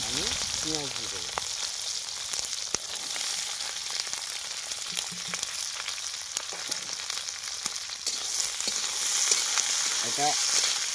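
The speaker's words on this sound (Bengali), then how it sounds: "হালকা ভাজা হয়ে গেছে, আমি পেঁয়াজ দিয়ে দেবো।" Onions fry in a pan of hot oil with a steady bright sizzle, intermittent stirring clicks and scrapes, and brief faint speech in the background.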